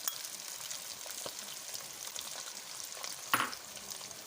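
Mutton keema sizzles in a kadai with spices, a soft, steady frying hiss with crackles, stirring scrapes and one sharper clatter near the end, with no talking.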